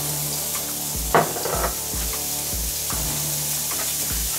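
Shallots and garlic sauté in a hot skillet on a burner, giving a steady close sizzle, while a utensil scrapes and clinks against the pan at intervals throughout.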